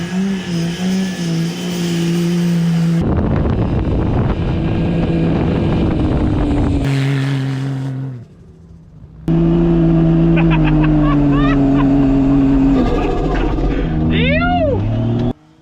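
A petrol-engined Barra 4WD climbs a steep sand dune in the Australian outback, its engine loud and close, revving and shifting pitch with a brief lull and wind buffeting the microphone.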